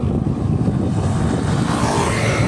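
Heavy Hino tronton trucks pass close by with a loud, rumbling engine roar that stays dense and steady over a couple of seconds.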